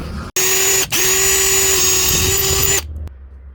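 A power drill fitted with a Forstner bit whines steadily at high speed, boring a screw recess in a dresser drawer rail, briefly cutting out once, then winds down and stops near the end.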